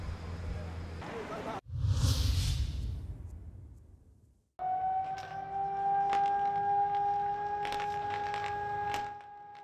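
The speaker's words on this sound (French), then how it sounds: "le son des sirènes résonne à travers Varsovie" Air raid sirens sounding across Warsaw on the August 1 commemoration, a steady wailing tone over city ambience after a brief whooshing burst, heard at a distance and holding for several seconds.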